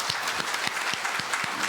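Sustained applause from an audience at a Won Buddhist university temple dharma service, clapping vigorously to welcome newly enrolled members; dense, steady and close, with no talk over it.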